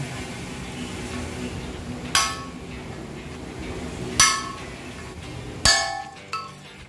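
A hammer drives a ball race bearing into the steering head of a Yamaha Nmax V2 scooter, four sharp metallic clinks spaced a couple of seconds apart, each ringing briefly over a low background hum.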